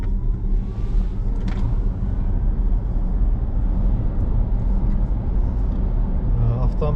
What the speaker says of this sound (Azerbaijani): Bu dəqiqə salonda ancaq kondisionerin səsi də olan.